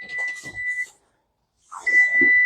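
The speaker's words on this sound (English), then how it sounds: "Turn off the timer." A kitchen timer beeps in a steady high tone during a sourdough cracker baking class, sounding twice with a short silence between, while a person talks quietly over the beeping.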